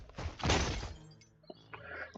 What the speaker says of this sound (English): Glass shatters, glass breaks.